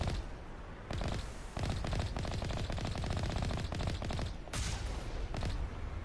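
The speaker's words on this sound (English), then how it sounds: "first you use your machine gun to take down the shields" Sustained machine gun fire in the video game Mass Effect rattles out in long, dense bursts, loud and close, with a couple of short pauses between volleys.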